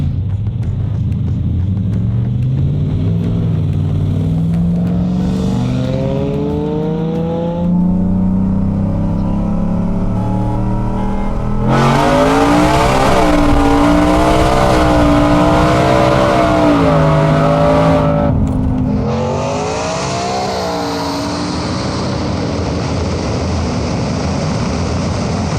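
A 4x4 work truck launches hard down an airstrip, its engine climbing through rising revs with shifts between gears, loud and close, then a louder roaring pull that cuts off abruptly before fading into quieter rumble.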